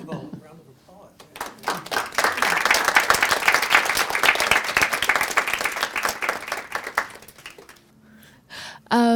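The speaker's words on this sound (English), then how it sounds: "First of all, a round of applause." An audience gives a round of applause at an interview talk with a design CEO: dense, sustained clapping from many hands swells and fades over several seconds, with speech before and after.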